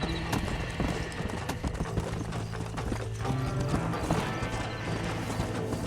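Horse hooves clip-clopping at a gallop in the Wild West video game Red Dead Redemption, steady and fairly loud, with a whinny and a busy game soundscape around it.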